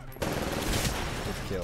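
Rapid automatic gunfire rattles continuously at close range in the Titanfall multiplayer shooter, a dense burst that starts abruptly and runs for under two seconds.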